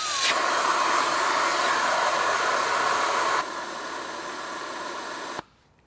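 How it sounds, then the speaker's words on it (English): iCheck automatic tyre deflator releasing air from a 35-inch tyre that starts at 29.5 psi, a loud steady hiss close by that quietens partway through and then cuts off abruptly. "how long it takes to air down a 35-inch tyre using one of the iCheck automatic tyre deflators"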